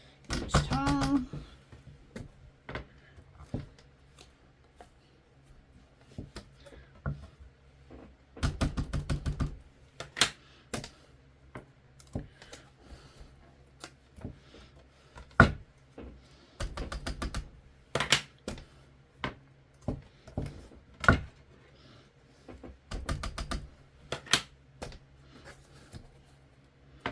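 A Sizzix Stamp and Spin crafting tool clicks repeatedly as it is rotated and stamped, with sharp, close, isolated clicks and taps spaced irregularly over a quiet background, some in quick clusters.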